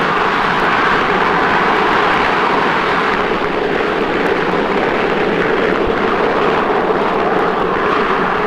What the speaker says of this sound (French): Les hélicoptères qui vont amener les approvisionnements de secours